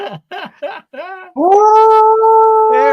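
A dog-like howl rises after a few short yips and cries, swelling into a long, loud sustained wail that holds steady to the end, used as a howling-at-the-moon intro sound effect.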